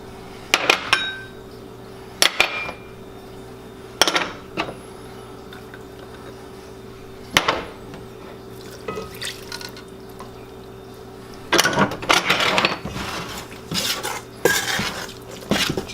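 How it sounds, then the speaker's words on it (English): A spoon mixing Chicago-style deep dish pizza dough ingredients in a bowl, with repeated close clinks and scrapes against the bowl in uneven bursts and wet stirring in between, no speech. "We'll mix the ingredients up first, and then I'll start to hand knead them"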